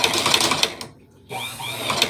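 A hand crank cobbler sewing machine whirs loudly and close in a fast mechanical run, stops briefly, then starts up again.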